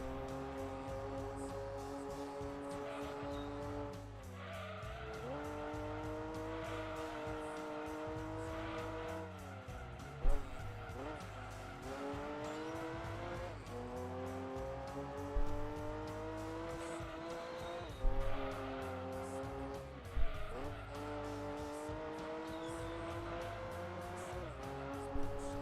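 A race car laps a track in the video game Gran Turismo 2. The engine whines steadily, rising and dropping through gear shifts, with occasional sharp tire squeals and skids.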